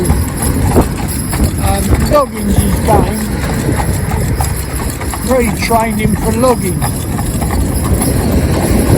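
Stallion cob horse hooves clip-clopping steadily on a town road while someone talks over the rhythmic beats, with a low engine hum in the background.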